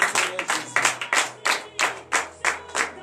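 A congregation at a Wednesday morning prayer service in Benin applauds with steady, rhythmic clapping, each clap a sharp burst repeating about three times a second, fairly close and uniform throughout.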